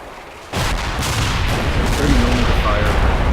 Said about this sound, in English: this is definitely 30mm fire